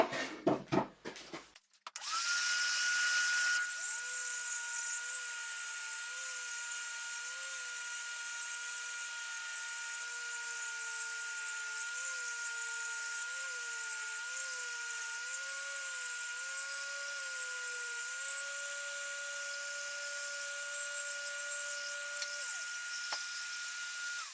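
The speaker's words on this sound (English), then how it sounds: "I'm going to go ahead and sand this down to 150 here." A power sander works a firewood-and-walnut tealight holder down to 150 grit, a steady close whine with shifting pitch running for over twenty seconds after a short burst of noise at the start.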